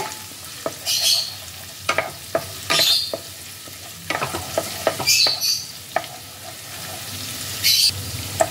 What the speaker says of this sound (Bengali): আদা রসুন কুচিটাকে তেলের মধ্যে একটু ফ্রাই করে নেব।